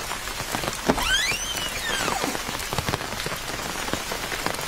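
Steady rain pours down at night in a Bengali cartoon, a dense, even hiss of drops on surfaces throughout, with a brief whistling, swooping tone cutting across early on.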